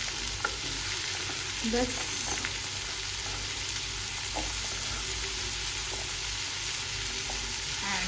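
Onion and tomato frying in a pan, a continuous loud sizzle with faint stirring scrapes throughout and a brief spoken word.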